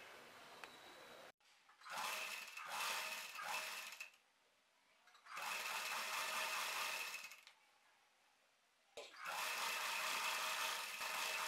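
A sewing machine stitches a skirt hem in three bursts of loud, close, buzzing whirr, with quiet pauses between runs.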